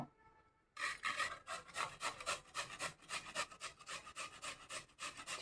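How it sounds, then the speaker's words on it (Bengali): Cauliflower and potatoes are scrubbed by hand while being washed, giving a quick run of rhythmic, close rubbing strokes after a quiet start. "ফুলকপি আলুগুলো আমি ভালো করে ধুয়ে নেব ঘষিয়ে দিয়ে"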